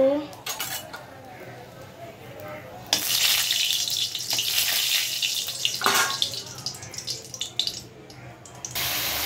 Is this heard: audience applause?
no